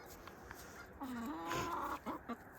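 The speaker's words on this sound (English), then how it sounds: "Whoa, hello, Chick. Hey, Rosie girl. What's going on with your beak, girlfriend" Chickens in a winter yard make soft clucks and a drawn-out, rising croak-like call, nearby and fairly quiet with low outdoor background.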